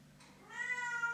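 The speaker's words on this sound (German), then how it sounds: "Katze, ganz im Ernst, sie regt mich so auf." A cat meows once, close and fairly clear, a short rising-and-falling call that follows a quieter breathy start over a low background hum, with no voices.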